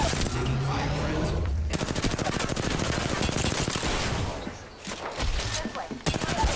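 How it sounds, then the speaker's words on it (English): Sustained automatic gunfire in a battle royale shooter, long rapid bursts of an SMG-style weapon with brief pauses, loud and close, with a voice talking between volleys. "Taking fire, friends."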